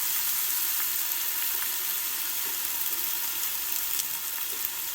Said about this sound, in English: So I'm gonna throw in my onions.